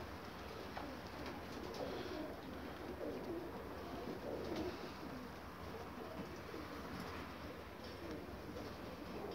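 Pigeons coo in a loft, soft repeated throaty calls overlapping from several birds at close range over a steady low background hum, with no clear speech.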